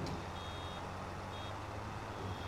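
Reversing beeps from a farm vehicle in Farming Simulator 25 repeat as a thin, steady electronic tone over a low continuous engine rumble, moderately loud throughout.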